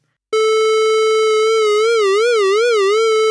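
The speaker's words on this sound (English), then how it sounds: "So with the switch in the upper position, you've got sine wave LFO control of the pitch." An ARP Odyssey synthesizer oscillator starts abruptly as a steady, loud tone, then its pitch begins wobbling smoothly up and down under sine wave LFO modulation, the vibrato growing deeper over a few seconds.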